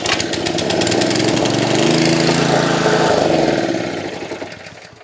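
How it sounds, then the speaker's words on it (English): A Honda GX160 small single-cylinder engine runs steadily after a no-spark repair, a close, loud, continuous chugging drone that holds for several seconds and then tapers off as the engine winds down. "You've fixed the spark and you've got your Honda GX engine running again."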